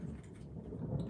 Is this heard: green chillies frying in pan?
no